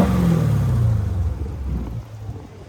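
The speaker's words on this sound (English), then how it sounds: "And I'm gonna go ahead and let y'all hear that cold air intake." A 2017 Dodge Challenger R/T Scat Pack with the 6.4-liter engine and a cold air intake revs loudly and close, a falling engine note settling into a steady low rumble, with no talk.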